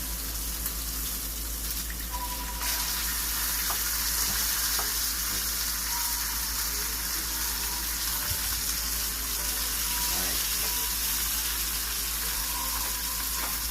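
Steaks sizzle steadily in a hot pan, a loud, continuous hiss with occasional small pops and clinks throughout.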